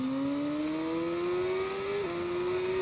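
Motorcycle engine in TT Isle of Man 2, a steady droning whine that rises slowly in pitch as the bike accelerates, then dips briefly with a gear change, loud and continuous throughout.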